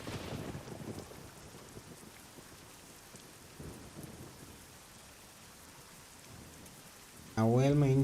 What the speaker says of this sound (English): It's raining for me.